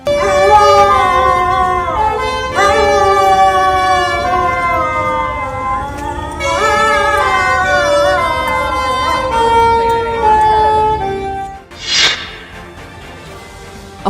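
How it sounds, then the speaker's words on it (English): A dog howling along with a saxophone played in front of a microphone, long wavering tones that rise and fall over several phrases, loud and close, ending in a short noisy burst. "the canine was accompanying its partner with a well-tuned howl"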